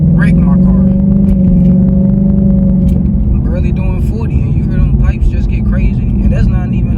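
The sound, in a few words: 2025 Ford Mustang GT (S650) exhaust pipes revving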